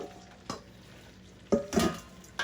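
Onions begin to sizzle in hot oil inside a cast iron pot for onion soup, a steady low frying hiss broken by a few sharp clinks and stirring scrapes at close range.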